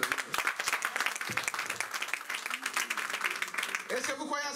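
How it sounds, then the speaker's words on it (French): A church congregation applauding at a French-language service, dense and continuous clapping from a crowd with voices mixed in and a brief voice rising near the end. "donnons encore une acclamation au Seigneur"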